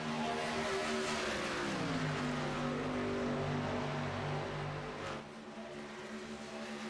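Race cars roar around the Kansas oval in iRacing, a dense, steady engine drone whose pitch bends and shifts as cars pass, easing somewhat quieter near the end with no talking.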